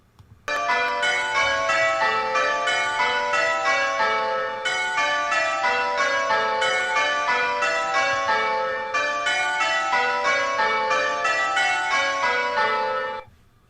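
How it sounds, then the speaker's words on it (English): Church bells ring Plain Bob Doubles in even, rapid rounds of clear metallic strikes, each bell sounding in turn with a brief pause between rows, loud and close throughout and then stopping. "Here is a recording of plain Bob Doubles together with a bell moving through the method."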